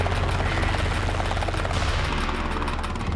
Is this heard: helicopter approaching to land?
yes